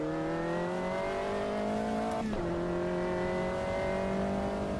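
Race car engine in the Automobilista 2 racing game, a steady high-pitched drone that dips sharply midway as the car brakes and shifts, then settles back into a sustained whine. No talking.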